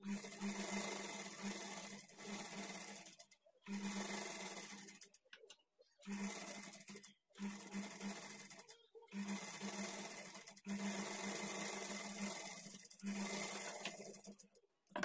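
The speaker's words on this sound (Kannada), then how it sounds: "ಈಗ ಇದನ್ನು ತಿರುಗಿಸ್ಕೊಂಡು ಇದ್ರ ಮೇಲೇನೆ ಡಬಲ್ ಸ್ಟಿಚ್ ಹಾಕ್ಕೊಳ್ಳಿ" A sewing machine double-stitches a blouse sleeve seam in several whirring bursts separated by short pauses, fairly soft and steady within each run.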